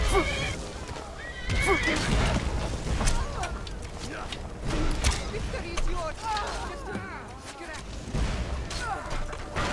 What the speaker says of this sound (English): just shot a horse!